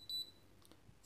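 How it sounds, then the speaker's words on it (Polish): A Satel Perfecta alarm panel reporting a fault gives a single short, high-pitched beep, faint and over a quiet room background. "Uporczywe pipczenie często powoduje, że klienci nie wiedzą, co z tym zrobić"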